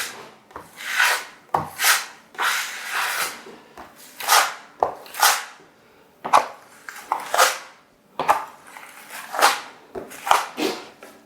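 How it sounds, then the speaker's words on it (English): Dalapro Roll Nova filler is smoothed across a wall with a blade, giving repeated close scraping strokes that rise and fall in a steady back-and-forth rhythm, each sweep lasting about a second. "Smoothing it out, blending it back into what you've already done."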